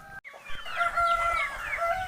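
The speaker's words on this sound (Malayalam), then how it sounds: "ഞാൻ വളർത്തുന്ന കോഴികളെ കാണാം" Chickens and a rooster on a small poultry farm in Kasaragod, Kerala; the chickens cluck over one another while the rooster crows in a drawn-out call, the birds fairly close and steady throughout.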